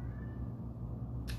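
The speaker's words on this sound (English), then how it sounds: "I got kitty meowing in the background" A house cat meows faintly in the background of a kitchen where ghost pepper sauce is being prepared, a single short meow near the end over a steady low hum.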